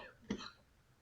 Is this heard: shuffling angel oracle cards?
no